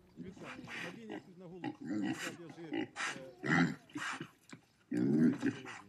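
Pigs grunting and oinking among sheep at a protest outside a local prosecutor's office, a series of close, rough grunts and squeals in bursts over six seconds, with some vocal noise mixed in.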